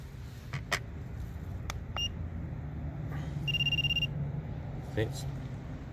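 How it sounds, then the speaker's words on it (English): Handheld TPMS sensor tester checking a car tire pressure sensor gives a short beep, then a rapid run of beeps lasting about half a second, faint under a low hum and scattered clicks. "This is a little sensor tester, checks the battery to make sure that the sensor is working."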